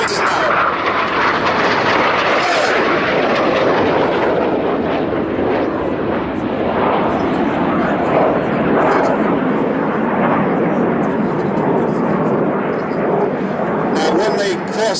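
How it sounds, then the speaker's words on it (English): Red Arrows synchro pair jets running in with double rolls at a Roskilde airshow, their loud broadband roar sustained throughout as they close and pass. "here is the synchro pair running in. Some double rolls, closing at"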